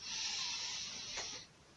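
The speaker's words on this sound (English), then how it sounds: "We always breathe in through the nose and out through the mouth." One person breathes in through the nose during a guided leg and breathing exercise, a soft, steady airy inhale lasting over a second, faint and close with no talk over it.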